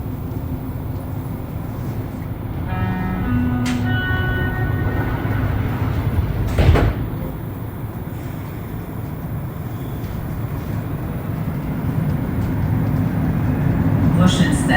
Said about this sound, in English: Another train approaching.